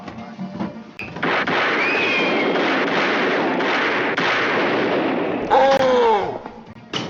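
Gunfire in a 1988 police training film scene, heard as a loud, sustained burst of sharp cracks and harsh noise lasting several seconds, with shouting voices mixed in.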